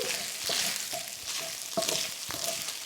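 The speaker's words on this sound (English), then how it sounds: "And stir that in." Garlic and simple ingredients stirred in a sizzling frying pan for Maltese baked pasta, a steady frying hiss broken by several distinct scrapes and clinks of the utensil against the pan, close and alone.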